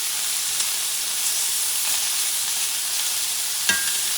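Fish fries in a pan over medium heat, giving a steady, even sizzle throughout, with one small pop near the end and no voices.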